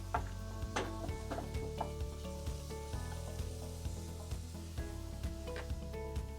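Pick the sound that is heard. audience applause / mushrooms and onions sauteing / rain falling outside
mushrooms and onions sauteing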